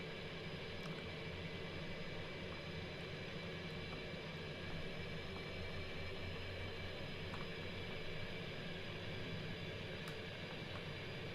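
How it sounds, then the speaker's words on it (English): A train rolls by in the X-Plane 11 flight simulator, heard as a steady, faint, continuous rumble and hiss with no distinct rise or fall, and no voices. "Ooh, there's a train."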